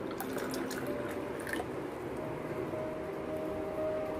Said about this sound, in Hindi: 2 से 3 टेबलस्पून मैं इसमें डाल रही हूँ पानी।